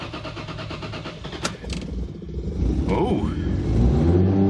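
A Toyota Supra with an upgraded turbo setup cranks and fires up, settling into a deep rumbling idle with rising revs, with a brief spoken exclamation near the start.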